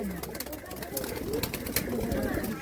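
Three Pakistani Rampuri pigeons coo at a pigeon sale, their low murmuring calls running continuously beneath a voice speaking over them.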